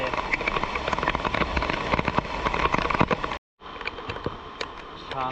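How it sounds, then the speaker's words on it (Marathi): Steady rain falls outdoors in the Konkan during the first monsoon rains, a dense close patter of drops on surfaces with a brief dropout partway through before the downpour resumes. "छान असा मस्त पाऊस पडतो"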